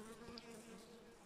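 A lively, fast-moving swarm of honeybees in an opened hive produces a steady, close droning buzz with overlapping wingbeat hums, alone without talk.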